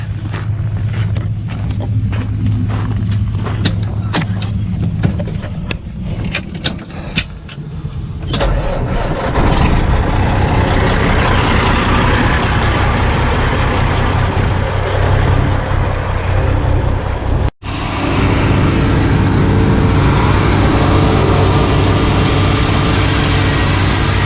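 A truck engine runs loud and close at a dozer job site, a rough continuous rumble with rattles early on that settles into a dense steady roar, briefly cutting out near the end before resuming.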